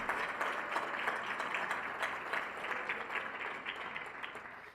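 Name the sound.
audience applause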